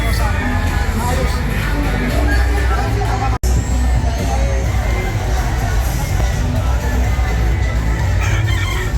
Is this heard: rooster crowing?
yes